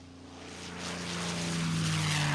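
Several WWII propeller warplanes flying together in formation off the Florida coast, a steady droning engine roar that slowly swells louder as they pass, with no voices.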